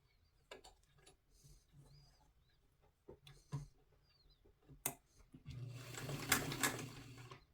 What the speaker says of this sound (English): Back stitching beginning and end.